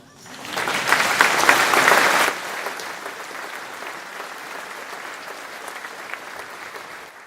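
Applause from the audience at a university graduation ceremony rises quickly, peaks for a couple of seconds, then fades to a light patter of scattered clapping.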